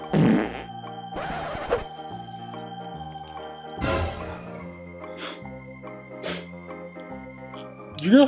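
A series of farts in a kids' pretend-play skit: several sharp bursts at irregular intervals over a sustained tonal drone, loud and close.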